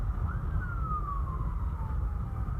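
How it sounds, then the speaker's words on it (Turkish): An ambulance siren wails in street traffic, a single long descending tone at moderate distance over a steady low rumble of engines and road noise. "Evet bir yerde ambulans geliyor."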